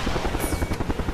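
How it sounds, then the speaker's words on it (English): A helicopter in The Expendables 2 video game gives a loud, steady rotor thump with regular pulsing beats and a high whine, close and alone. "I'm guessing shoot the helicopter."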